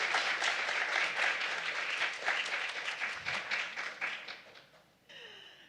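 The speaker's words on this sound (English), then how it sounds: "Can we just have one more round of applause for both Linda and Carissa" An audience gives a round of applause, a dense burst of clapping that holds steady and then tapers off near the end.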